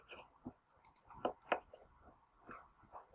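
A computer mouse double-clicks to select a table in Adobe InDesign: two sharp, close clicks, near and crisp, with soft handling noise before and after and no talk.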